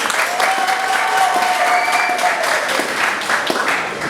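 Guests at a civil wedding ceremony break into applause right after the vows, a crowded burst of clapping with a faint tone and a few voices mixed in, steady and fairly loud.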